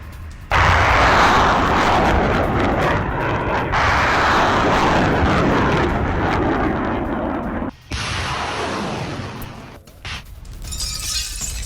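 Russian air defense missiles launch against a Ukrainian attack in the Kursk region with loud roaring rushes and sharp blasts, two long sustained whooshing roars broken by abrupt cuts, then a further launch roar with crackle, all without speech.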